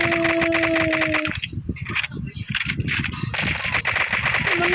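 Rapid automatic gunfire rattles in a zombie escape mode of a blocky first-person shooter game, loud bursts of shots with a short lull in the middle before firing resumes, while a voice talks underneath.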